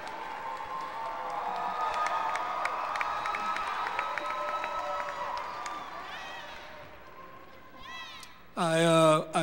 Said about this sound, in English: I finally got the applause I wanted.